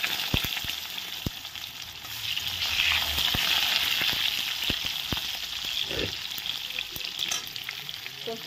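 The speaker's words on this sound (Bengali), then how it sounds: "প্রথমে আমি আলুটা ভেজে নিচ্ছি" Potatoes fry in hot oil with a dense, bright, continuous sizzle, punctuated by sharp clicks and taps of a utensil against the pan, close up and without speech.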